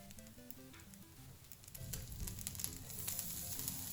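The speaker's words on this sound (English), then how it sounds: "Now I'm gonna heat up the margarine. I'm using margarine and put the chopped garlic in there." Chopped garlic sizzles in heated margarine in a pan, a steady crackling hiss that grows louder partway through, with background music playing over it.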